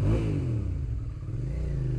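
A motorcycle engine is revved with a few quick throttle blips while riding slowly in first gear through traffic, a close, fairly quiet burst that settles into a steady idle rumble.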